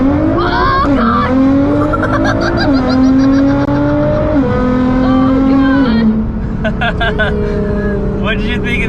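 A 700hp Nissan GTR accelerates hard in race mode, its engine note climbing steadily through gears with brief shift dips, loud and continuous from inside the cabin, with people talking over it.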